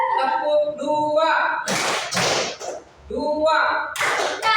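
Hands clap on command in a classroom concentration game, with sharp broadband bursts in quick succession, while a voice talks between the claps.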